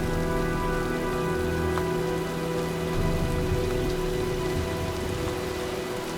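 Rainstorm in the video game Heavy Rain: an even, steady downpour hisses continuously at moderate level, with no voices over it.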